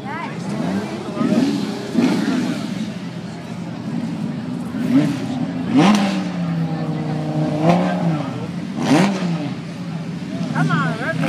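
Italian car engine revving at a car show, repeated rising blips and throttle swells with a small Fiat nearby, mixed with crowd noise and people talking close by.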